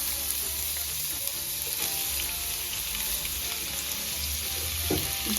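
Finely chopped carrots fry in about three spoonfuls of hot oil in a pan, giving a steady, even sizzle and crackle that holds throughout, close and moderately loud, with no voices.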